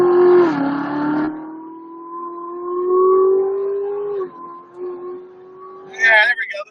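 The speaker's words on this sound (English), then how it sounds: "got my little old 2017 Z06 here. I'll just let y'all hear a little bit of it." A 2017 Z06 sports car engine holds a loud, steady drone that climbs slowly in pitch as it revs, with short bursts of noise at the start and end.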